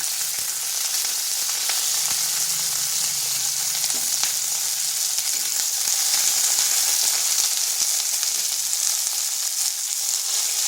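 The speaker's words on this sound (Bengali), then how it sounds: "এমনি নুন আর হলুদ দিয়ে ফুলকপিটাকে ভেজে নিচ্ছি।" Cauliflower fries in mustard oil with salt and turmeric in a kadai, making a loud, even, continuous sizzle with a few faint stirring knocks and no voices.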